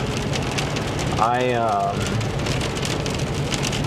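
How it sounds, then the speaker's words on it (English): Steady rain falling outdoors, a close, even hiss of drops that continues throughout. A brief tonal, voice-like sound rises over it near the middle. "It's raining today, which is always fun."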